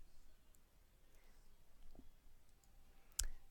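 A single sharp computer mouse click sounds once near the end, close and crisp against a quiet, faint background, with no talking.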